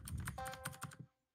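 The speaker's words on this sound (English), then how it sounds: "I just hear the keyboard" Rapid computer keyboard typing during a live online gaming stream, a quick flurry of close, light clicking keystrokes that stops abruptly near the end.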